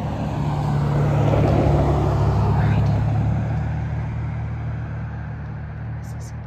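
A car passes on a road, its broad engine and tyre rumble swelling to a peak and then fading as it moves away, with steady background hum underneath.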